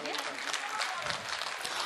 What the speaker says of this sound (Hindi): एक साथ तालियां बजा दीजिए।